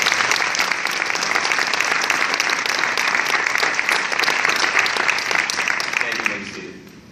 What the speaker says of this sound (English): May we please have a round of applause for these inductees